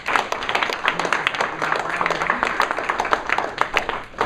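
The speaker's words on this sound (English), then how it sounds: "another round of applause for our speakers" A round of applause for panel speakers at a labor law discussion, a moderately loud patter of individual claps from a modest audience, steady throughout with no talking.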